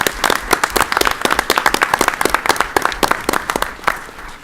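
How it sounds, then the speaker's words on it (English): At a school board meeting, a small group claps for National Merit Scholars of the class of 2018, close, distinct individual claps forming a lively, uneven patter that tapers off toward the end. "Let's give them a round of applause."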